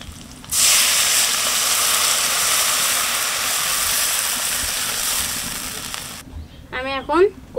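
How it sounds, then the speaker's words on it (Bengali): Fish curry broth in a pot rising to a boil gives a loud, steady steamy hiss and bubbling roar that cuts off abruptly, followed by a brief voice. "আমার ঝোলটা ফুটে উঠছে"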